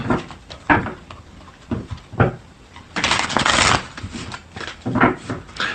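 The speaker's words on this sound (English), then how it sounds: "Let's get some of these cards." Tarot cards being shuffled and drawn, giving a run of soft papery riffles and slaps at close range, with a longer dense shuffle burst in the middle and no talking.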